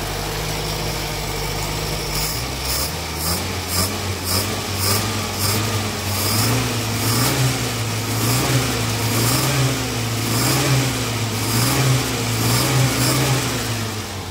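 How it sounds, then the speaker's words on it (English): A 1968 Datsun 1000 shed-find engine idles close by, running steadily and loudly throughout with a continuous hum and a slight rhythmic wavering in pitch. "I think it idles pretty well considering it's just a bolt on."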